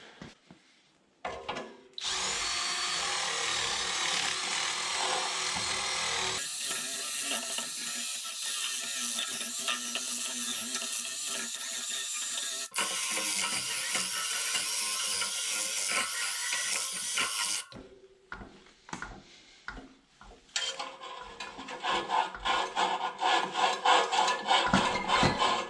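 Power sanding the flat spot on a seized exhaust blower motor shaft with an impact-ready tool, loud sustained grinding in two long bursts with short scraping passes before and after, no talk.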